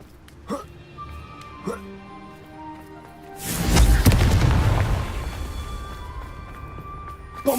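A Confringo spell explodes in the video game Hogwarts Legacy. A few soft knocks lead into one heavy, rumbling boom that swells and then slowly fades over several seconds.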